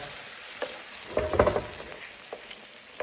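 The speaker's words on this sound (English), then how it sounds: "just give that a good old stir" Chopped tomatoes stirred into a dish in a pan, a brief scraping and sizzling burst mid-clip with a few lighter clinks around it, close and moderately loud against quiet background hiss.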